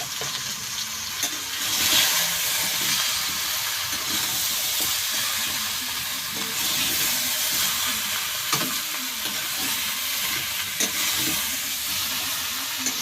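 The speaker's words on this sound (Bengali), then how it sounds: "লবণ আর দেবো অল্প হলুদ গুঁড়ো দিয়ে এইবার ভালো করে নাড়াচাড়া করে ভেজে নেব" Mango pieces with salt and turmeric fry in a pan, an even, nearby sizzle with a steady hiss and repeated stirring scrapes throughout.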